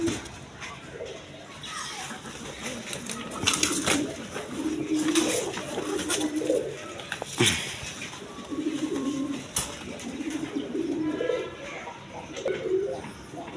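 Breeding pigeons kept in cages at a wholesale farm sale coo repeatedly in low, rolling bursts, close by and moderate in volume, with rustling and handling noises throughout.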